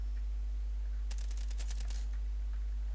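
A single quick burst of rapid gunfire rattles for about a second amid a low steady hum, then stops.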